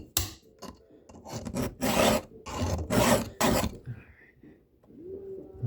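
A chainsaw chain is sharpened by hand with a file, giving loud, close, rhythmic rasping strokes in steady back-and-forth bursts with brief pauses between them.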